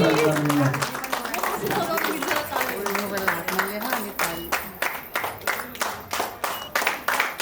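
At a couple's engagement, clapping rises under voices and settles into rhythmic, evenly spaced claps toward the end, close and moderately loud while people keep talking.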